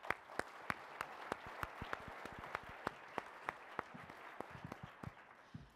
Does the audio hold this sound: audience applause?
yes